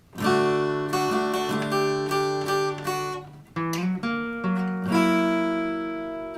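Guitar chords strummed in rhythm, then a quick slide up the neck into a new chord that rings out and sustains; no voices.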